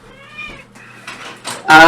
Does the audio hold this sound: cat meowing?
yes